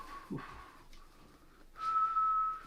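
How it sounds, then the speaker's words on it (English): A person whistles a soft, steady tune alone at close range, a few short notes followed by one longer held tone, quiet overall. "I caught myself whistling"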